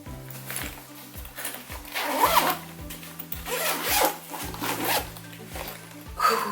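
A zipper on a Ju-Ju-Be Hello Kitty midi backpack pocket opens in a series of quick ratcheting pulls, close and crisp, repeated strokes of varying length with brief pauses between them.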